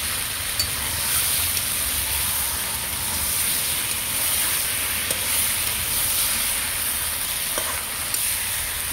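Mutton with spices frying in a pan, a steady close hissing sizzle running unbroken throughout with faint scrapes of stirring.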